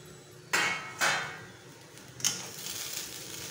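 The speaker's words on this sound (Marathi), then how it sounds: "आपण झाकण काढून पाहूया।" A metal lid is lifted off a pan of steaming onion poha, giving two sharp clanks and a later lighter clink close by, over a soft background hiss.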